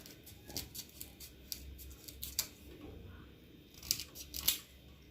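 Scallion, onion and thyme are cut up for pumpkin rice, faint irregular snips and chops with short pauses in a quiet kitchen.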